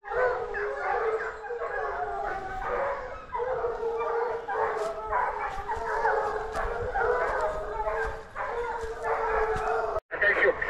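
A pack of hunting dogs on a wild boar hunt in the Pyrenees, barking, yelping and howling almost without pause at fairly close range, with a brief break near the end.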